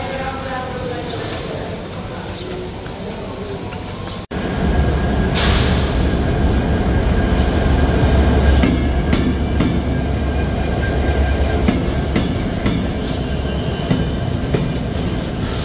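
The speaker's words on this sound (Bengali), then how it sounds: "এই মুহূর্তে 4 নম্বর প্ল্যাটফর্মে প্রবেশ করছে চিলাহাটি থেকে ছেড়ে আসা নীলসাগর এক্সপ্রেস।" The Nilsagar Express from Chilahati rolls into platform 4, a steady loud rumble of wheels and coaches swelling after a sharp jolt, with faint squeals and clicks over the rails.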